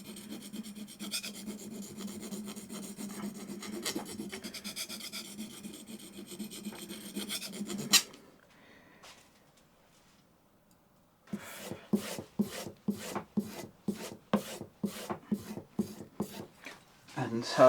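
A plane iron is honed freehand on a sharpening stone: a steady scraping rub for several seconds, a brief pause, then a run of short, evenly spaced strokes at close range with no voices.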